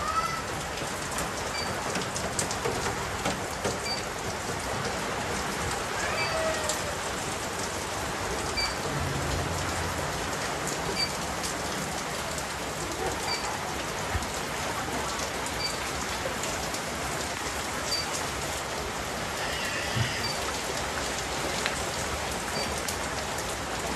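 Stormy rain pours steadily over a village garden, a dense, even hiss of drops striking the ground for the whole stretch, with faint bird calls now and then in the background.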